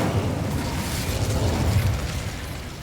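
Sustained roaring burst of the Incendio fire spell in Hogwarts Legacy, a broad continuous whoosh of flame that holds steady for a few seconds and fades slightly at the end.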